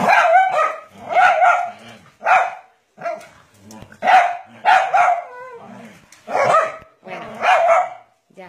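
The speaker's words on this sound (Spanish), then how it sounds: "es un cachorro y Julieta es muy brutita y Leonardo le regaña" A puppy and another dog play roughly, with close, loud barks, yips and growls coming in short uneven bursts, broken by brief pauses.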